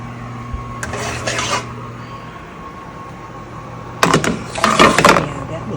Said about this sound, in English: It's time to take them out of the oven.